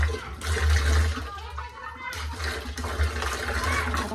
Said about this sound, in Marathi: वापरायचं पाणी इथं बघा ड्रमातच सोडलेलं आहे पाईप